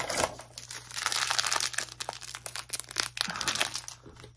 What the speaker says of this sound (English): Sometimes I can't get it to rip, so I use my scissors.